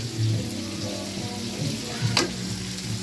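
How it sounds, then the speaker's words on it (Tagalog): Ingredients sautéing in a hot pan, a steady close sizzle with a brief stirring scrape partway through, no talk. "Rinig nyo naman mga kastrong ang pagkakagisa niya."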